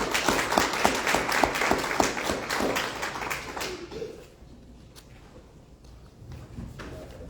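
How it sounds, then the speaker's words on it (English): Audience applause for two candidates at a chamber of commerce candidate forum ahead of a special election, dense clapping for about four seconds, then fading into quiet room noise. "Let's give these candidates a round of applause."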